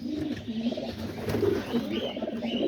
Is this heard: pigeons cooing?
yes